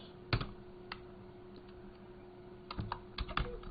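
Tags for a Shopify store blog post are typed on a computer keyboard in a few faint, scattered keystrokes, with a short cluster near the start and a quicker run toward the end.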